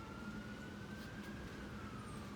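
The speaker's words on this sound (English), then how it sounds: "Yeah, the ambulance." An ambulance siren passing by, heard as a faint, distant wail that rises and falls slowly over a steady low traffic rumble, with no voices.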